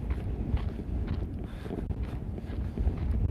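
Steady wind buffeting the microphone, a low continuous rumble with gusty swells throughout, no voices.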